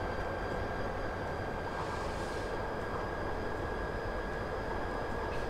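A Class 59 locomotive runs along track in Train Simulator 2018 on the Medway Valley Line, giving a steady loud rumble with a constant engine drone and faint odd track noise throughout.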